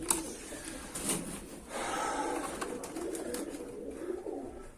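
Soft, low cooing of a homing pigeon repeats in a steady rhythm, close by, over a quiet background.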